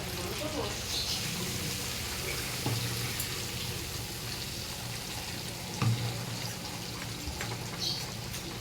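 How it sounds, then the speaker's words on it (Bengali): A bowl rinsed and water poured into a pan on the stove, splashing and running water mixed with a low background sizzle, with a person talking over it. "বাটিটা ধুয়ে জল দিয়ে দিলাম"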